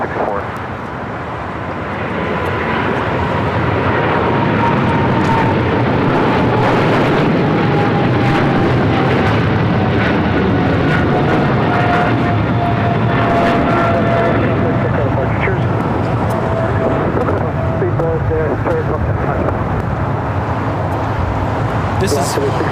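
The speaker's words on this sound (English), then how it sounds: "Speedbird 28 Foxtrot Heavy taking off to London Heathrow on a 777-300ER" A British Airways Boeing 777-300ER, Speedbird 28 Foxtrot Heavy, taking off from LAX for London Heathrow, its engines swelling into a loud sustained roar with a slowly falling whine, with people talking over it.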